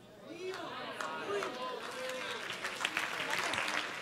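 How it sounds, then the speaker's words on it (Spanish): Church congregation applauds in a sustained patter of many hands, with rising and falling voices and a sung or preached line over it throughout. "Si ese es el aplauso para su padre, eh, mejórelo."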